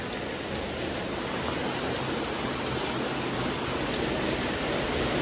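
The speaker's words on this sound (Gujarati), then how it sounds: "કેટલો વરસાદ છે તમે જોઈ શકો છો" A heavy downpour roars steadily throughout, a thick, unbroken rushing hiss of rain striking surfaces nearby with no voices over it.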